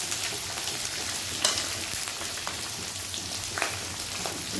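Coarsely chopped onions sizzle in hot oil in a pan for sambar, giving a continuous close crackle with a few sharper spits and clinks, and no voices.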